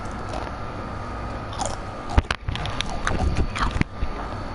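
Someone eats crunchy potato chips up close, with a few sharp bites and crunches clustered together over a steady background hiss, no talking.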